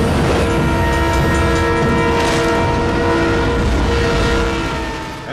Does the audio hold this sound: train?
yes